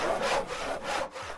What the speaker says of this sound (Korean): 쓱싹쓱싹 하는 톱질 소리와 대패질 소리가 온 마당에 울려 퍼졌습니다.